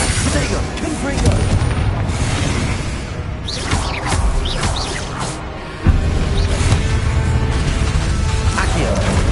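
A Confringo explosion spell in Hogwarts Legacy, a dense booming blast with crashing debris and rumbling, loud and close, mixed with game noise and a brief drop before another burst.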